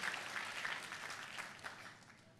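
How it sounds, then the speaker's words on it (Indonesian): A church congregation applauds for Jesus during a sermon, with a soft, steady patter of many hands clapping together that sounds fairly distant and even throughout. "Tepuk tangannya yang paling meriah buat Yesus Tuhan kita."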